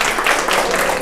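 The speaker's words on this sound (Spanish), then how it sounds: "Un aplauso para Maggie" Audience applause for Maggie at a church or parent group gathering, a dense, steady patter of many hands clapping at a fairly loud level throughout.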